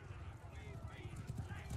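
In the Mount & Blade II: Bannerlord battle game, horses gallop with rapid rhythmic hoofbeats under someone talking, moderately near amid battle ambience.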